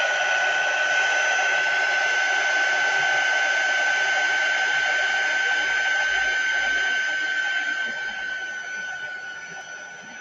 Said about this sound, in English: I'm going to put my heat gun on and dry that off